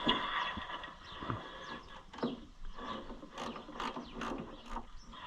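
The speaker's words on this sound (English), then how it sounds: "Let me first get these bolts tight." Bolts are tightened on a John Deere 1020 tractor during reassembly, with a wrench ratcheting in repeated clicking bursts and some metallic knocks at close range.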